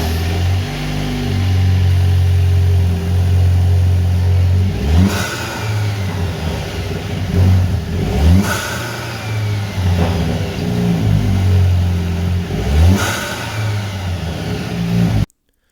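A Jeep JL with a 2.0 turbo engine and an S&B cold air intake, loud and close, idles roughly and is revved hard three times, each rev climbing and falling back to idle.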